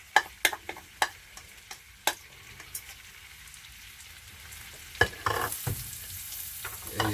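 Shallots and leeks hit a pan of oil and butter, a soft close sizzle punctuated by several crisp spatula taps and clatters early on, then a brief louder burst of frying and scraping late, no talking.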